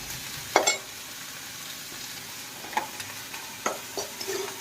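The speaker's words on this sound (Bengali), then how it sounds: "এখানে হচ্ছে পেঁয়াজ ভাজছি" Onions frying in a pan for mashed potato, a soft steady sizzle broken by a few sharp scraping stirs of a spatula, close and fairly quiet, with no talk.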